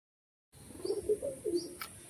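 An adult Madras pigeon pair cooing softly at close range, a few low throaty coos after a short silence, with a faint chirp in the background.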